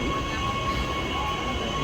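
A tram on the Puy de Dôme rumbles past close by, a loud steady rolling drone with a faint high whine above it.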